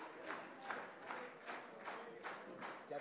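A wrestling crowd at an independent show roars in steady surging waves of cheering and shouting, loud and close, rising and falling roughly every half second as a hold is applied in the ring.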